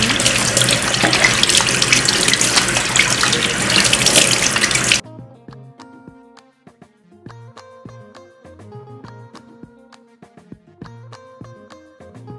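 Kitchen tap running steadily and loudly while hands are washed, then shutting off, leaving quieter clattering and knocking sounds.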